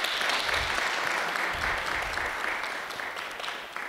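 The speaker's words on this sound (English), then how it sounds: "Please, one applause for her." Steady applause from a crowd, with dense clapping throughout that fades slightly toward the end.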